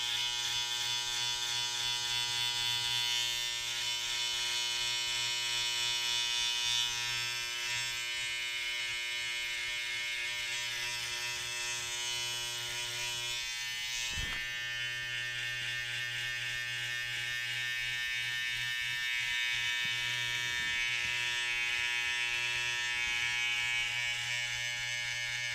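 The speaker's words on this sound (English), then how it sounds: "just grab your trimmer" An electric beard trimmer buzzes continuously and closely while shaping a neckline, a steady high-pitched motor whine with slight shifts in load as it moves over the skin.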